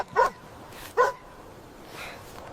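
Dogs in a snowy frozen wilderness barking, two sharp close barks about a second apart followed by a fainter yelp, over a quiet background.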